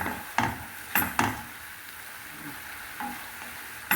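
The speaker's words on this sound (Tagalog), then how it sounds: "I fried onion with garlic and ground meat." Onion, garlic and ground meat frying in a pan for bagoong alamang, a steady close sizzle broken by a few sharp scrapes and clacks of a utensil against the pan.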